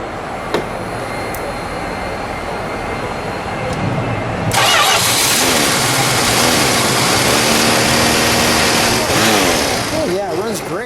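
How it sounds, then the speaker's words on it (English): A 1980 Dodge Mirada's 318 V8 cranks and catches partway through, bursting into a loud, rough idle that keeps rumbling steadily after a few quieter seconds of background. "Let's fire it up, shall we?"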